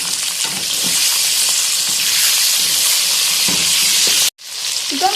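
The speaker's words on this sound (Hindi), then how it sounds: "चिकन को हमने अच्छे से फ्राई कर लिया" Chicken pieces with bones and boneless chunks fry loudly in a pot for haleem, a constant close sizzle and hiss with occasional stirring scrapes and a brief break near the end.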